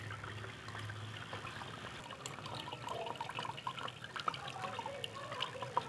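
Small amounts of water are poured repeatedly over gold recovery material from cellphone circuit boards, giving irregular close splashes, drips and trickles over a low background hum.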